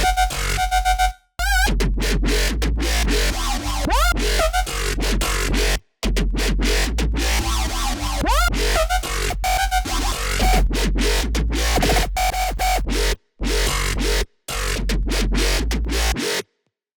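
Electronic dubstep bass drop from a remix built in Ableton, loud and dense with wobbling, sweeping bass and synth stabs, cut by several abrupt silent breaks and playing alone without voices.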